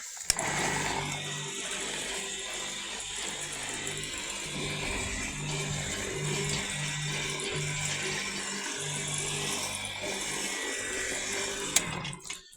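A hand-built concrete mixer driven by an electric motor and chain runs steadily, giving a continuous mechanical whirr and rattle with a low humming drone, close and loud throughout with no talk.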